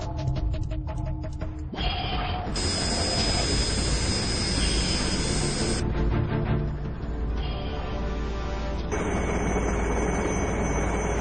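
Loud, continuous turbine whine and roar from a military helicopter engine, the pitch and tone shifting abruptly several times, with no voices.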